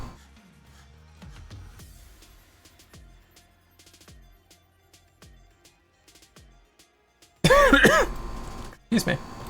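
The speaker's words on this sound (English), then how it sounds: "I have got a cough." Someone clears their throat and coughs in a harsh loud burst near the end, after a stretch of quieter background sounds, with a second short cough following.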